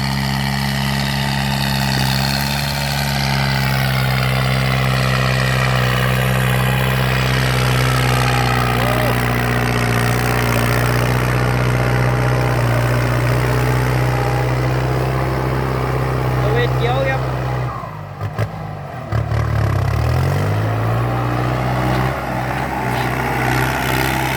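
A Kubota M9540 tractor drags soil with a loud, steady, close diesel drone that holds constant for most of the stretch, then briefly dips and labours before recovering.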